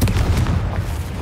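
A Confringo blasting spell explodes in the Hogwarts Legacy video game, a loud, dense boom with rumbling low end that fills the whole short moment, with no talking over it.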